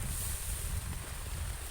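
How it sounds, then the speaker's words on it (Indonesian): Strong swirling wind buffets the microphone in a rural village in southern Garut, a continuous loud rushing roar with no gaps. "ieu angin semelilit ieu rek kumaha atuh"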